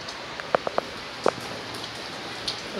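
New Year's rain falls outdoors as a soft, steady wash of noise, with a few sharp individual drops tapping nearby and no talking.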